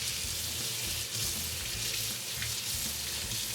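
Tap water running steadily into a kitchen sink over a peeled hard-boiled egg, a continuous close hiss and splatter with no talk.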